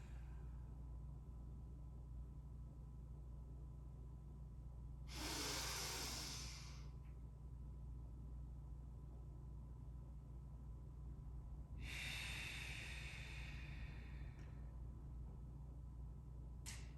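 Two long, forceful breaths of a yoga breathing exercise, each a loud airy rush lasting a second or more, separated by several seconds of quiet room hum.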